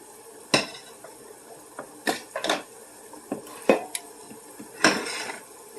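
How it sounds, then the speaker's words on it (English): Green Giant frozen mixed vegetables tumble into a casserole dish in a series of separate clattering impacts, close and fairly quiet, with a few louder clunks. "I'm going to dump them right into the casserole dish"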